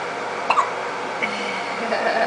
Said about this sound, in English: Those little hiccups.